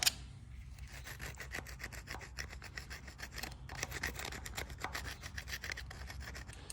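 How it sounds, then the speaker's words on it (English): Steady rasping scrapes work grime off the rocker arm assembly of a 1952 Case DC tractor, a close, quiet, continuous scratching with a rapid back-and-forth rhythm. "So I've been scraping around on the rocker arm assembly here, and as nasty as it is, this junk is coming off."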